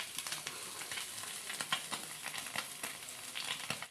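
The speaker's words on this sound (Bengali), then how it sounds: "ভাত ভাজি করছে ডিম দিয়ে" Rice and egg fry together in a pan, giving a steady, close sizzle with busy crackling and a few louder pops and scrapes throughout.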